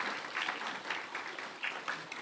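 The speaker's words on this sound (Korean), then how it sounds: "박수 한번 쳐 주십시오." A church congregation at a Sunday worship service breaks into steady applause, a dense, moderately distant patter of many hands clapping throughout.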